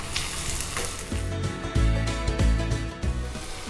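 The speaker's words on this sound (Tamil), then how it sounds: "இதை வந்து நல்லா கொஞ்சம் சவக்க வறுத்துக்கலாம்" A chopped large onion and two dried red chilies fry in a pan for a raw mango coconut milk kuzhambu, a close, loud, steady sizzle with bubbling crackle and low thumping pulses throughout.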